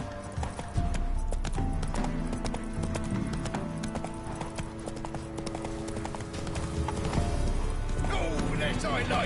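Roach, the horse in The Witcher 3, gallops in a steady, fast clip-clop of hooves up close, with game music and ambience running beneath and a person talking over it.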